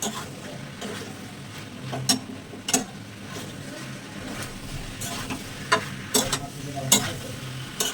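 Ground ginger, cumin, garlic spices and vegetables sizzle softly in a pan while a spatula scrapes and clacks against it at irregular intervals, the sharp stirring knocks standing out over the low frying hiss.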